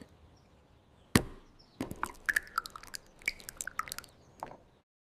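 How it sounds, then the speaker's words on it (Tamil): A sharp crack of an egg against a hard edge, followed by scattered small wet drips and clicks from the shell, quiet and close. "முட்டை உடைத்தல்."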